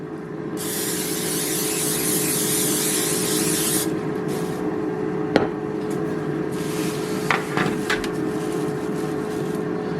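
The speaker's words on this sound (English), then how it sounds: "I just spray it pretty heavily with some spray oil." A steady, loud aerosol hiss from a can of cooking spray oil coating a pan runs for several seconds, followed by a few light clanks and taps of the pan nearby.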